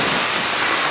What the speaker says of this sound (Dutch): En het regent.